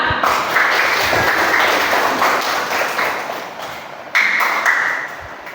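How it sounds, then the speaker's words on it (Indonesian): Students in a classroom clap for group 1 as it is called up to present, a steady crowd of hands pattering throughout with a brief drop and a fresh burst toward the end. "Silakan kelompok 1, tepuk tangan"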